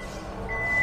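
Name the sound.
Hyundai Palisade power tailgate closing by remote, warning beeps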